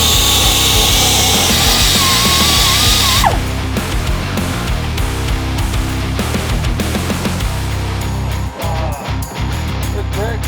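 Abrasive grinding stripping powder coat off steel suspension brackets for QA1 rear suspension on a 1969 Camaro, a steady loud rasping drone for the first three seconds, then shop clatter and scraping take over.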